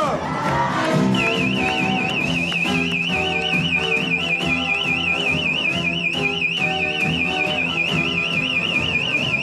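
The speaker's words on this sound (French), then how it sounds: "Ah, c'est les détecteurs de fumée." A shrill smoke detector alarm beeps continuously in a rapid warbling pattern, heard over a noisy crowd of voices and music at a wedding reception.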